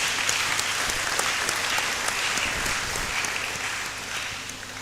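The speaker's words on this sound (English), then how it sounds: "Can we give him another round of applause, please?" The audience at the second Kwame Gyekye Memorial Lecture gives the speaker another round of applause, a sustained, moderately loud patter of many hands heard on its own, tapering off slightly at the end.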